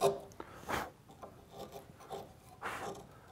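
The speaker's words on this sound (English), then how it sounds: "So I'm just going to get in there with a chisel and kind of relieve part of this wall" A hand chisel paring the wall of a plywood joint on a tool chest, a few soft scraping strokes at an irregular rhythm, close and quiet with no talking.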